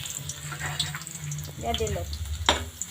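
Garlic hits very hot oil in a pan, with a quick burst of sizzling and spattering heard up close, partly under someone speaking.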